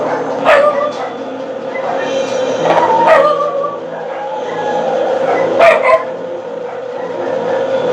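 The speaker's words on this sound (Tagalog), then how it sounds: "Ingay yung aso." A dog barks a few times at intervals, fairly loud and nearby, against a constant background of outdoor noise.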